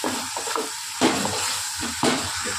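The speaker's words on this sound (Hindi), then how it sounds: "इसमें डालेंगे लाल मिर्ची 2 चम्मच डालेंगे, तो भी अच्छे से भून लेंगे" Red chili fries in a pan for a Hyderabadi lunch, a loud continuous sizzle and hiss broken by a few sharper stirring bursts, with no voices.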